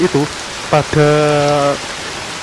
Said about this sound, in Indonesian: cukup ramai kendaraan karena hujan yang sangat deras